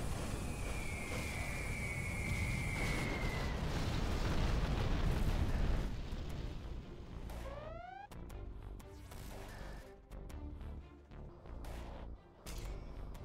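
A particle cannon blast in Command & Conquer Generals erupts as a loud, roaring sustained explosion that rumbles for several seconds, then breaks into scattered crashes and pops as it fades.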